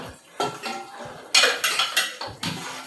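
Dishes, pots and utensils clatter during dishwashing in a home kitchen, with repeated sharp metallic clanks and knocks close by, in uneven bursts and no talking.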